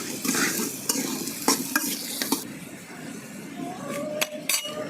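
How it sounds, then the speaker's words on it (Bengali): Potatoes frying in hot oil in a wok over a village clay stove, a steady sizzle broken by several sharp scrapes and clinks of a stirring utensil against the pan, close and fairly loud, with a faint whistling tone near the end. "তো এখন আমি আলুগুলো আগে ভেজে নেব"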